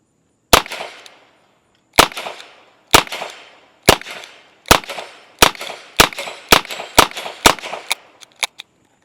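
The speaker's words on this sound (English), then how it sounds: "See how she shoots. Be the first shots through the GP100." Shots from a Ruger GP100 .22LR revolver ring out at an outdoor range, eleven sharp cracks with short decays, spaced a second or two apart at first and then coming faster toward the end.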